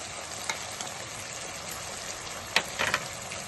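Sauce for dragon chicken sizzles quietly in a pan under a steady low hiss, with a few short scraping stir sounds, the loudest cluster near the end.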